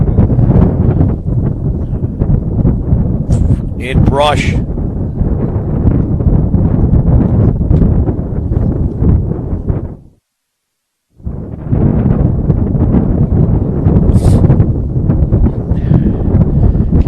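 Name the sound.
strong wind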